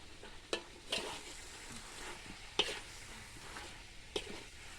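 Chicken curry with cucumber being stir-fried in a pan, giving a steady low sizzle broken by a few sharp scraping clatters of the utensil against the pan.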